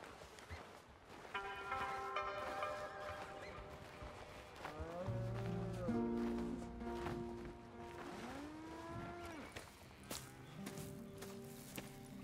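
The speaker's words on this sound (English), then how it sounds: "Here's the cows." Cattle low on a ranch in the video game Red Dead Redemption 2, with several drawn-out moos rising and falling over a busy outdoor game ambience. No one speaks.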